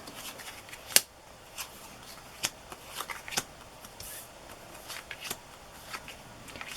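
Holly Hobbie greeting cards are stacked by hand, a sequence of soft, scattered papery slaps and brushing taps, close and fairly quiet.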